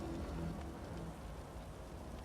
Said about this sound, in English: We have rain.